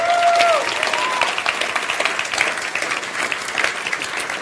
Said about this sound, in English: can we have a round of applause, please, for our three judges?